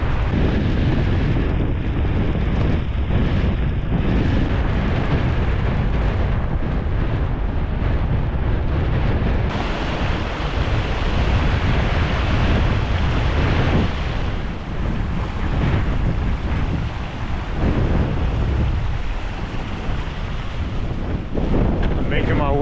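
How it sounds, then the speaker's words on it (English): Strong mountain wind buffets the microphone throughout, a loud, continuous rumbling roar with gusty surges and no speech. "the wind's significantly better than it was over there"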